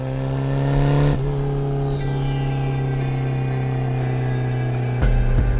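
Mazda FD RX7 rotary engine droning loudly from inside the moving car, a steady hum with a shift in pitch as it changes gears, harsh and constant, without any talking.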